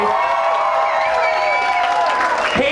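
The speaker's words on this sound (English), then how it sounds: "Can I have a round of applause for older people, please?" A crowd at the Limerick Pride 2012 event applauds and cheers, a dense continuous wash of clapping with whoops and raised voices rising above it.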